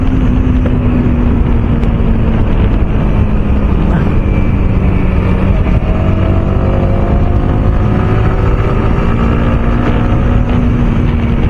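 Yamaha R15M motorcycle cruising in fourth gear on a solo ride to Brahma hills, its steady engine drone buried under loud, continuous wind rush from the open road.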